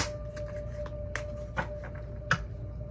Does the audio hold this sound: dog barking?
no